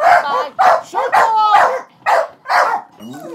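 A dog barks in a string of six loud, close yaps spaced about half a second apart, with a brief whimpering whine at the end, as another dog walks past.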